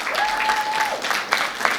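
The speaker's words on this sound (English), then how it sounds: "So please give all of these folks a round of applause in terms of that." Applause from an audience at a press conference on a community trust executive order, a steady wash of clapping with a sustained tone running through the first half.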